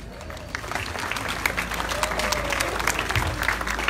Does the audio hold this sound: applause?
yes